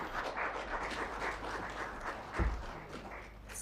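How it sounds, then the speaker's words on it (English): Sustained applause from an audience at a state press event with two presidents, a steady wash of clapping filling the room, moderately loud and continuous, with a brief louder bump midway. "May we please have another round of applause?"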